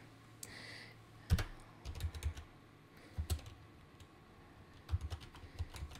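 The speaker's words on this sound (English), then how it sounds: "I can type my return address on here" Typing on a computer keyboard at a desk: short, quiet clusters of key clicks separated by pauses, close and alone with no talking.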